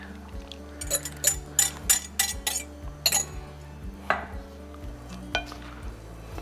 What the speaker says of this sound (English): And now let's mix the wet into the dry.